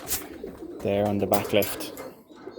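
Pigeons coo in a loft holding three prize cock birds and three chequer hens, a low, throaty, harmonic call rising clearly near the middle, with someone talking around and over it.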